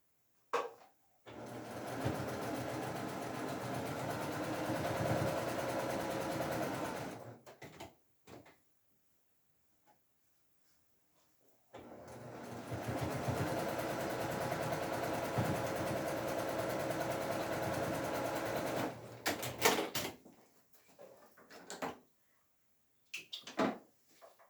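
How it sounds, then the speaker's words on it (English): A sewing machine stitches a row of quilt blocks in two long steady whirring bursts separated by a quiet pause, with small clicks and handling noises between and after. "So let me sew a row for you."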